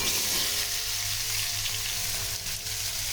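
Small cucumber pieces fry in hot spiced oil with steady, dense sizzling close up, alongside occasional faint stirring, with no talk.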